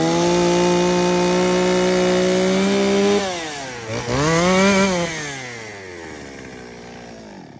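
A Shindaiwa 360 chainsaw with a 40 mm cylinder idles steadily and close, then revs up and falls back down as it sputters from running low on fuel, the engine note fading toward the end.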